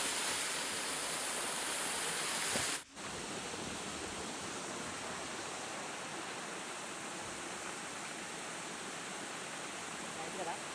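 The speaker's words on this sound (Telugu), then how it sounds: "అరకులోనే బెస్ట్ వాటర్ ఫాల్ అనమాట ఇది" A waterfall in Araku pours in a steady, loud broadband roar that fills the scene without letup, broken only by one brief dip in level near the start.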